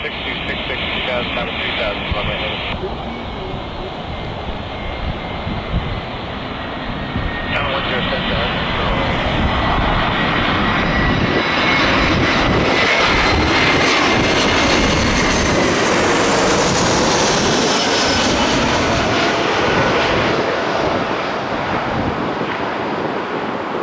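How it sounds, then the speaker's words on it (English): Boeing 757 jet engines at Tampa airport, a loud sustained roar that builds and sweeps in pitch as the aircraft passes close by, with wind noise and a voice heard under it. "757 rocket ship service from the world's busiest airport to get us kicked off here"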